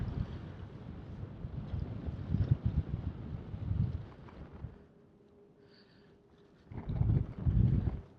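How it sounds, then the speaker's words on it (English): Strong wind on a beach buffets the microphone in heavy, rumbling gusts. It drops to a quieter lull before a second loud blast returns near the end. "it's far too windy"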